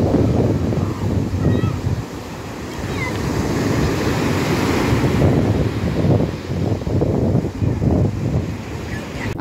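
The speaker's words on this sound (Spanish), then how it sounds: "Hace unas olas de la leche." Ocean waves surge and wash onto a beach in loud, continuous rolling surf. Gusts of wind buffet the microphone throughout.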